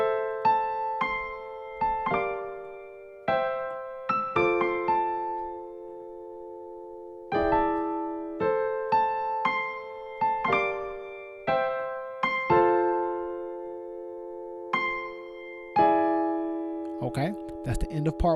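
A solo piano plays part 1 of a song slowly, tutorial-style, with clear, separate chords and notes struck in phrases, each ringing out and decaying before the next, with short pauses between.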